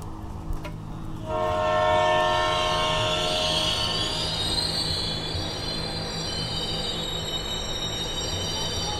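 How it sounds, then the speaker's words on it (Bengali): A train pulling into Mirpur station sounds a long, loud horn over the rolling rumble of wheels and carriages, with high metallic squealing that builds as it slows. "কিছুক্ষণ পরেই ট্রেনটি মিরপুর স্টেশনে প্রবেশ করল।"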